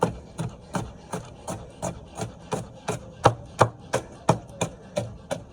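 A knife chops red and yellow peppers on a board in a steady, even rhythm of about fifteen close, crisp strikes that grow slightly harder toward the end.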